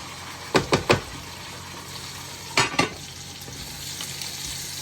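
Onions, peppers and garlic fry in olive oil, butter and brandy for a homemade cheese steak, giving a steady close sizzle. A few sharp stirring knocks from a pan come in two quick bursts.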